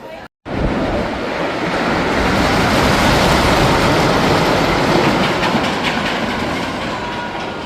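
Water from a passing log flume dumps and splashes along a roller coaster track at an amusement park, a loud, steady rushing roar that starts after a brief pause and carries on unbroken.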